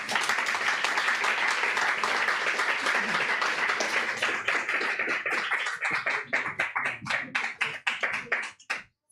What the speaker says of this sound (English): Let's give them a round of applause, all of them.